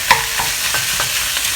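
250 grams of minced meat hits a pan over medium-high heat and sizzles loudly and continuously, with a few soft stirring scrapes, close up and with no voices.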